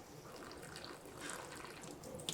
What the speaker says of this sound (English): I'm just trying to let the water push all of the soil into the cracks.